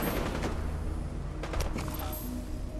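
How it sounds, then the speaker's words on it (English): Gunfire in the Fallout 4 video game, a continuous rumbling barrage of rapid shots with some sharper cracks partway through, loud and steady with no talk. "More shooting."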